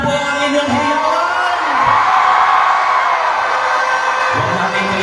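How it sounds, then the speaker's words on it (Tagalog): A large rally crowd at a market campaign kickoff in Pasig cheers, whoops and shouts continuously, a loud sustained roar of many voices swelling in the middle. "Lakasan niyo naman po ang inyong hiyawan."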